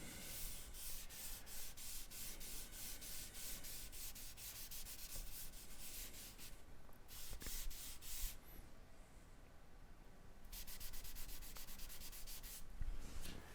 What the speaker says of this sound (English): And then you're just kind of drawing your shapes as you go.